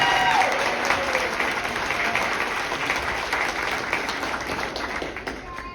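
Audience applause at a kindergarten graduation: steady dense clapping from a crowd, fairly loud at first and easing slightly over several seconds, with no voices over it.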